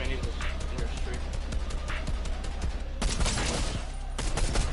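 Gunfire crackles through a Fortnite match, with scattered shots and quick bursts near and far over constant game noise, and a player talking throughout.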